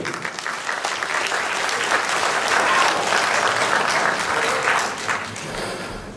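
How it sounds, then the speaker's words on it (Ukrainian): Audience applause at the Karpaty Cup boxing tournament, a dense, sustained wash of clapping from a large crowd that swells through the middle and tapers slightly at the end. "Оплески для цих людей"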